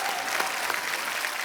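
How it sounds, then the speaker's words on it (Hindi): Sustained clapping from a studio audience on a television comedy show, a dense, even wash of hands throughout with a few sharper claps standing out. "उसके लिए भी तालियां।"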